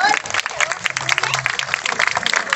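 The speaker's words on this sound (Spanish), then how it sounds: "Un aplauso para ellos, por favor." Applause from a small group of friends at a Christmas gathering, a brief burst of claps with voices mixed in, fairly close and steady for a couple of seconds.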